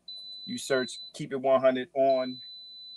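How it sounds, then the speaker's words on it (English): A high, steady smoke-alarm beep sounds in the background of a kitchen where steaks are cooking, a thin continuous tone running under a man's close speech. "Pardon that beeping in the background."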